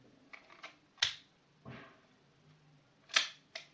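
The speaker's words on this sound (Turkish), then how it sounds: "Yani şöyle koyalım yerime şarjörü." Metallic clicks and snaps from a Zoraki 918 T blank pistol as its magazine is seated, a few light ticks followed by two sharp louder clacks, close up in a quiet room.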